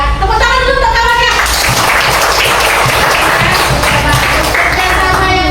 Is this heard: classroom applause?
yes